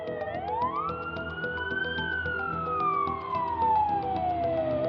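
A loud siren wails continuously, rising and slowly falling in pitch, over low traffic rumble.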